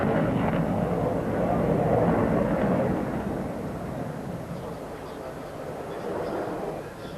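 A German Navy Tornado jet passes at an air show, a loud broad rumbling roar that swells early and then slowly fades, with a voice talking over it.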